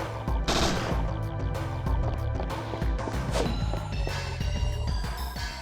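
Grenade launcher firing in the video game Parasite Eve II, a dense run of loud booming blasts and impacts over rumbling game sound, with no talk.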